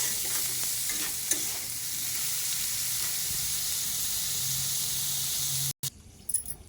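Oil heats and fries in a pan on the stove, a loud, steady sizzling hiss that cuts out abruptly for a moment near the end before sputtering back more unevenly.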